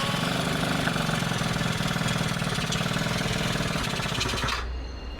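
A Yamaha Passola scooter engine runs with a loud, rattling, rapid chatter close by, then cuts out abruptly near the end, leaving a faint low hum.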